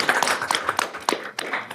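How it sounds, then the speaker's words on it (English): Applause at a school board meeting honoring a staff member's ten years of dedication: a short burst of crisp, close hand claps from a small group, uneven and lively, lasting under two seconds. "Give a round of applause for Nicole."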